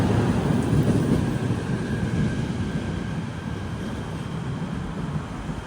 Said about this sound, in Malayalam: നമ്മൾ വന്ന ഒരു KTM കൊമൂട്ടർ ഇതാ ഇവിടുന്ന് പോവുകയാണ്.